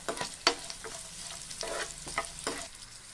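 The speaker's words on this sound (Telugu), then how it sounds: "ఇందులో కొన్ని జీడిపప్పు కూడా వేసి ద్వారగా వేయించుకోవాలి" Cashews fry in ghee in a pan, crackling and sizzling as a spoon stirs them in a few quick scraping strokes; no voices.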